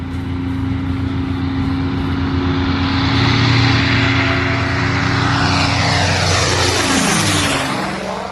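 A propeller airplane takes off, its engine drone loud and steady throughout with a pitch that shifts and sweeps near the end as it passes close by.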